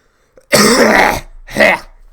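Two harsh, close coughs, a long rough one followed by a shorter one, loud against near silence.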